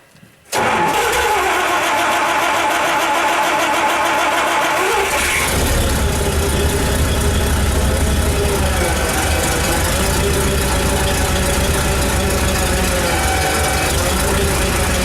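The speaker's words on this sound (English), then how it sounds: "So I'll have Jordan start it up and he can move the cylinder in and out from the steering wheel." Royal T 300C machine diesel engine cranks briefly, catches and revs, then settles into a steady rough idle close by, with a voice speaking over the running engine.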